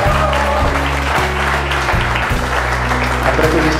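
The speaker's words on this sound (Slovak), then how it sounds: "môžeme zatleskať" Loud, dense applause fills a wedding ceremony, steady and sustained throughout, with many hands clapping together in a large room.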